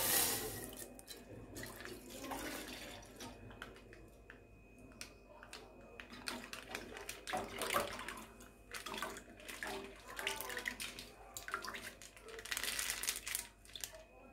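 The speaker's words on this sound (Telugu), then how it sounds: "అందులో పాలు వేస్తున్నా నేను, ఒక 1/2 లీటర్ ప్యాకెట్ వేస్తున్నాను అన్నమాట." Milk from a half-litre packet pours into a tea pot in a faint, uneven trickle and splash, with light plastic crinkling and small clinks in a quiet kitchen.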